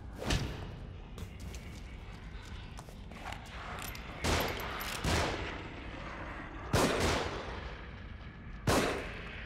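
Pistol shots ring out in The Evil Within, several sharp, loud cracks spaced irregularly over a low ambient game background, with no voices over them.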